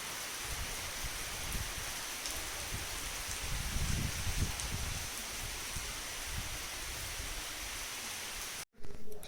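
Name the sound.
rain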